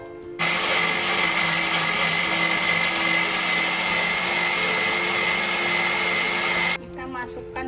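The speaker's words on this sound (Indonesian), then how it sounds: "Tambahkan kemiri, jahe, kunyit juga ikut di blender." An electric blender grinds candlenut, ginger and turmeric into a spice paste, a loud steady whirring motor that runs for several seconds and then cuts off abruptly.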